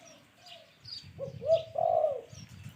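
Deep, resonant spotted dove cooing close by, a short run of low hooting notes building to a longer final coo, with low rumbling noise underneath.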